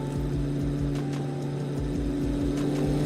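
Steady droning propeller aircraft engines in Microsoft Flight Simulator, a low rumbling hum with rhythmic pulsing throbs, continuous and moderately loud, with no one speaking.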